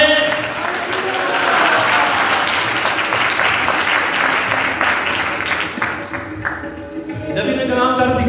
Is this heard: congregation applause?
yes